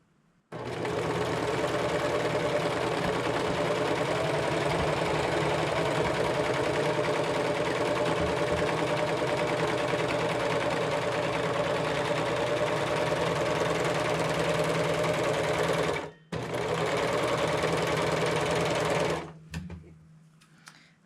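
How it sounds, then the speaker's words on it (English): A sewing machine runs a straight stitch on fabric for a scrunchie, a continuous mechanical whirr of rapid stitching that pauses briefly near the end before resuming, then stops. "If you're using your sewing machine, you can just do a straight stitch."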